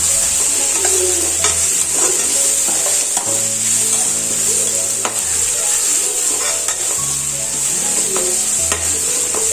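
Curry leaves sautéing in hot oil for a chicken pepper fry: a steady, loud bright sizzle runs throughout, with frequent scraping and stirring knocks of a spoon against the pan.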